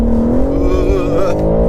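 BMW M4 CS accelerating on a wet road, a loud engine note rising steadily in pitch under a voice.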